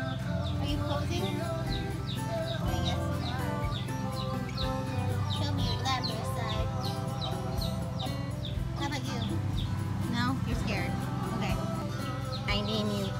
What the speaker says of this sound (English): Dumpster chicken.